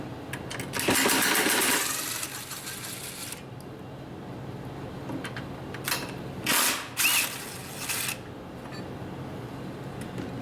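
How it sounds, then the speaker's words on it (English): A power tool backs out the four fender mount bolts on a Kawasaki KLT 200C three-wheeler. A loud whirring burst is followed by quieter mechanical clatter and several short, sharp whirs later on, with no talking. "we need to pull out the 4 bolts holding down the fender mounts and then set that down and then replace the bolts"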